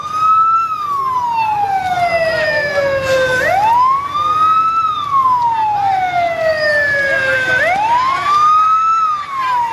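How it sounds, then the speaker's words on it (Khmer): A fire truck's wailing siren rises and falls in long sweeping cycles, loud and close, as the truck arrives at a burning market in Siem Reap, Cambodia. "ឥឡូវឃើញថាឡានទឹកបានមកដល់ហើយ"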